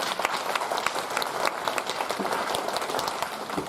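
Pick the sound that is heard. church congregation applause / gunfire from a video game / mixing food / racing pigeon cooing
church congregation applause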